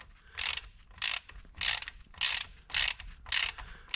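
Repeated ratcheting bursts as a bolt on one side of a bearing plate is tightened down with a hand tool, six evenly spaced loud clicking runs about every half second, close and alone with no talk.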